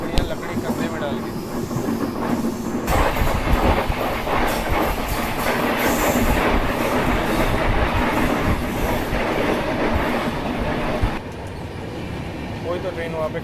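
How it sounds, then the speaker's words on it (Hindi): A train on the Southern Railway line in India rumbles past at a crossing, a loud steady roar with clattering wheels that drops off near the end, while someone talks over it. "कोई तो ट्रेन वहाँ पे क्रॉस हो रही है"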